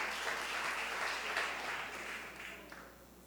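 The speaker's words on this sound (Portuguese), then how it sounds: "Vamos aplaudir ao Senhor, irmãos." Church congregation applauding the Lord during a sermon, a dense, steady wash of many hands clapping that fades slightly toward the end, with no voices over it.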